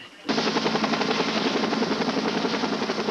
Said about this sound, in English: 2 Life Flight helicopters are immediately dispatched to the scene.